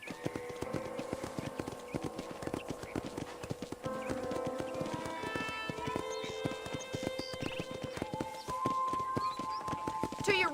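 In Red Dead Redemption, horse hooves clip-clop in a brisk, continuous rhythm close by, with an occasional whinny and snort.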